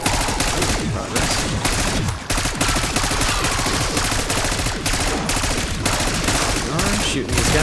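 Rapid, steady automatic gunfire from Call of Duty Black Ops 6 Zombies on the Shattered Veil map, loud and continuous with brief gaps, under a faint voice.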